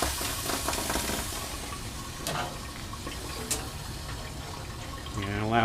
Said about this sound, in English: allow the cold water to run on them